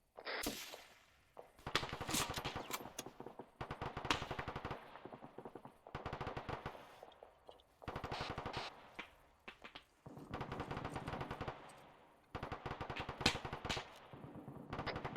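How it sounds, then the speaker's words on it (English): Repeated long bursts of machine gun fire ring out during a military field training exercise, rapid rattling volleys broken by short pauses, loud and fairly near. "Taking machine gun."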